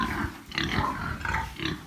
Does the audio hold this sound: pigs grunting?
yes